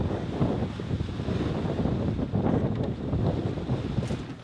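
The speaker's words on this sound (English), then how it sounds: "It's flying about 15 knots on the beam pretty consistently, so it's actually perfect sailing conditions right now." Steady wind at sea on a sailing yacht in about 15 knots on the beam off the Whitsundays, buffeting the microphone with a continuous rumbling roar and gusty swells, mixed with a faint wash of water.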